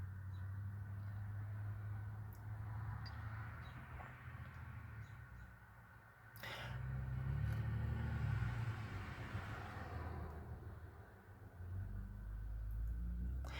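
A Chevrolet Aveo with a failed PCM cranks on the key and tries to start: a steady low mechanical rumble swells for several seconds, eases off, then builds again, without catching.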